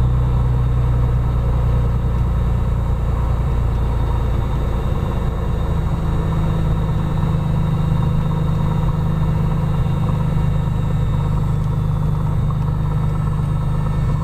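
An aircraft engine is throttled back to run at reduced power near 1000 RPM, giving a steady, loud low rumble that holds on throughout with no talking.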